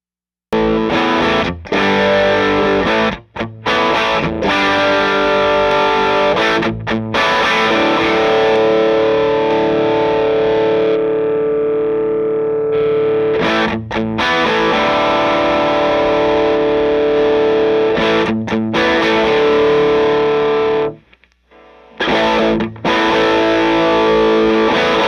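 A distorted electric guitar through an overdrive pedal, on a Matchless amp's channel 2, plays loud sustained chords and riffs, with a couple of brief pauses between phrases.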